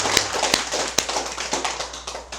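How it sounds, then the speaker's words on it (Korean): An audience claps at a Buddhist Dharma service, a dense, fairly loud wash of many hands with regular stronger beats about every half second, and no talking. "박수 보냅시다."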